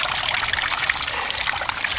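Water trickles and splashes steadily into an aquaponics grow bed, a continuous close bubbling dribble with no speech over it.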